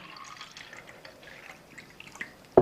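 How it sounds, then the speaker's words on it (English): Tap water trickles softly into a glass holding a little tea, a faint steady pour with a small knock near the end. "we're going to add some tap water to that little bit of tea that's there"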